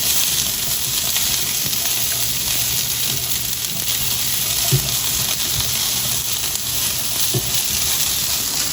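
Onions sear in a hot pan beside beef sausage, giving a steady, dense sizzle with occasional soft scrapes and knocks as they are stirred around, close and continuous.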